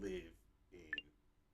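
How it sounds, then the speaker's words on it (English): A couple of quick, faint electronic beeps sound in the background during a quiet pause between bits of speech. "Are you guys hearing that little beep in the background?"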